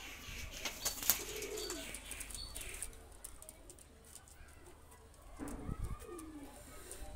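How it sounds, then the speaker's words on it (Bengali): Two Oman teddy baby pigeons burst into flight with a loud flurry of flapping wings, followed by fainter wingbeats and soft cooing, with another brief flutter of wings near the end. "দুইটা কবুতর ছেড়ে দেখাচ্ছি আমি, দেখেন।"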